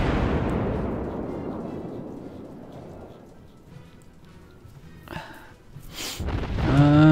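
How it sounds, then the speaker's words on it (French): A naval artillery salvo fired in World of Warships, a heavy boom that rumbles and fades over several seconds, followed by quieter shell sounds and a rising whistle-like effect at the end. "Est-ce que la salve va toucher?"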